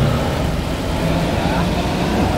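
A truck rumbles along the road, its heavy engine noise loud and continuous amid general traffic, with no clear voices over it.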